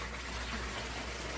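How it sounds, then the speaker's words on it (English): Water is poured into a container while brewing compost tea, giving a steady, continuous rush of liquid that holds level throughout without a break and with no talking. "we'll dump the water in"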